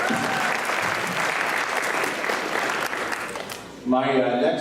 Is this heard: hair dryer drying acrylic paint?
no